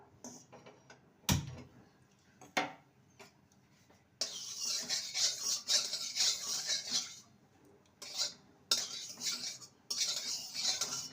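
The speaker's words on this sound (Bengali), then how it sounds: "কড়াইয়ের চারপাশে ভালো মতন ছড়িয়ে দেব" A utensil scrapes and clinks around a kadai, spreading mustard oil over the hot metal on a gas stove; repeated metallic scraping in bursts with brief pauses, fairly close.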